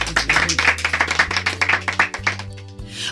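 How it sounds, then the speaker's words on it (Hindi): Rhythmic clapping from an audience at a music show, loud and close, with a driving beat of claps over a sustained low musical tone that fades out near the end. "जोरदार तालियां"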